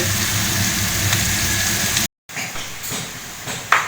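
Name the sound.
ivy gourd (kundru) frying in a pan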